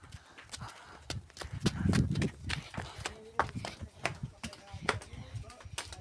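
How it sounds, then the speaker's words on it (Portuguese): A loose horse moves about outdoors at night in the rain, its hooves clip-clopping in an irregular series of near, fairly quiet footfalls alongside faint voices. "vai o cavalo que tá solto"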